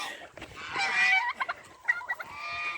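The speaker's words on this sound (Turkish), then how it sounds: "Hindular! Ne haber?" Turkeys on a free-range poultry farm gobble in rapid, warbling bursts, close and fairly loud, with a sustained call followed by shorter choppy notes.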